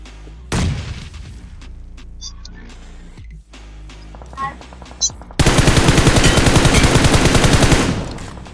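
Gunfire in the BGMI PUBG Mobile battle royale game: a few scattered shots and thuds, then a long, loud, continuous burst of rapid automatic fire that runs for about three seconds before tapering off.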